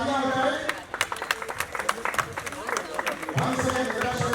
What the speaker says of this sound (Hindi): इस खूबसूरत दृश्य के लिए तालियां हो जाए